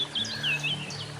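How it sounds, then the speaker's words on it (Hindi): Birds chirping outdoors on a morning trek near Raghupur Fort: a few thin, quick whistled chirps that rise and fall over a faint steady hum, heard alone at moderate distance. "चिड़ियों की आवाज़"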